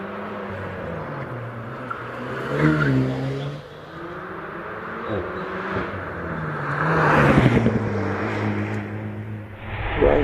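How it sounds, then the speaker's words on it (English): A Porsche Cayman 718 GT4 Clubsport on a hill climb run at Prescott, its engine rising and falling through gear changes as it passes. The engine note is loud and strong, peaking twice, with no one talking. "Richard York is on the line in the Porsche Cayman 718 GT4 Club Sport."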